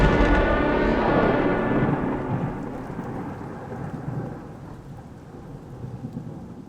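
Heavy rain pours steadily during a thunderstorm in the Philippines, with a loud rolling thunder rumble at the start that fades into a dense, continuous downpour.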